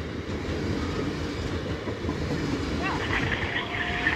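A train rolls over the Brayford Wharf East level crossing, a steady loud rumble of wheels on rail filling the whole stretch, with a brief higher squeal near the end.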